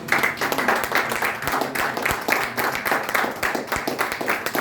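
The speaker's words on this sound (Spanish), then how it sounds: "Aplausos al Padre de Cristo" A congregation applauds the priest in a steady wash of many hands clapping, continuous and fairly loud throughout.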